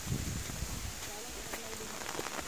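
Rain falling outdoors on a wet, watery spot, a steady broadband patter that fills the clip at moderate level with no voices heard.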